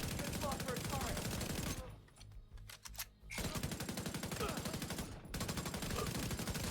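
Gunfire in The Division 2 video game, dense rapid automatic bursts close and loud, breaking off briefly in the middle with a few scattered shots before resuming, with faint speech beneath.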